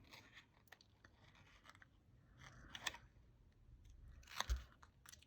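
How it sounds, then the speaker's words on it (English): Scissors cutting through paper for a card-making craft, with a few quiet crisp snips and crunches spread across a soft, hushed background. "you turn the paper and just let the scissors sink in"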